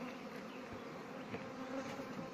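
Honeybees drone steadily at a nucleus hive in an apiary, a close, continuous buzz with no speech.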